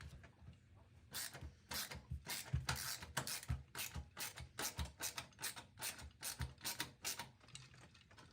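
Quiet rapid clicking from a ratcheting mechanism while a GPU is fitted into a PC, arriving in quick uneven bursts of small mechanical ticks over low background rumble.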